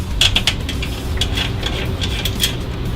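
A 17 mm socket wrench tightening strut tower brace nuts on a 2016 Mustang GT, bursts of quick ratcheting clicks close up, with several short runs separated by brief pauses.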